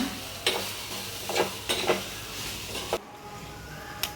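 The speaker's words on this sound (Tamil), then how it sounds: "இதையும் போட்டு லைட்டாக ஒரு வதக்க இருக்குங்க" Tamarind is sautéed lightly in a pan while making pirandai chutney, giving a soft, steady sizzle. A few scraping stirs and clinks sound close by, then the frying noise drops away near the end. No voices are heard.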